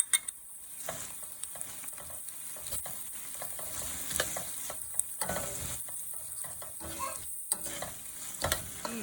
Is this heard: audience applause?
no